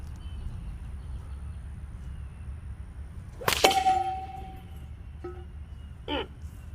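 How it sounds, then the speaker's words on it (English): A stone slung from a shepherd's rock sling strikes a metal gong once, giving a sharp clang with a short ringing tail, followed by a couple of fainter metallic knocks against steady outdoor background noise. "let's take this gong out real quick"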